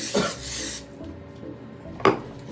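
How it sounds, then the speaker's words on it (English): Cooking spray hisses onto aluminum foil laid out for potatoes, a close burst of broad hiss up front, then quiet, then a short sharp clatter near the end. "You wanna spray it down so your potatoes don't stick."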